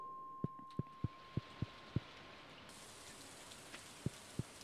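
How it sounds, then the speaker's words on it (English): Rain in the video game Stardew Valley makes a steady soft hiss, with a regular series of crisp taps like footsteps over it, faint and without talk. "Trudge home through the rain."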